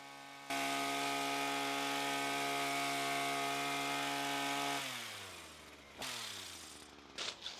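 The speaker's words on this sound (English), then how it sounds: "I'm going to try and cut the top of this hedge, which is always been the biggest trouble" A Titan 5-in-1 petrol hedge trimmer engine drones loud and steady at a constant idle-to-mid pitch, then its pitch sags and it sputters, with a sharp catch partway through before it dips and rattles again near the end.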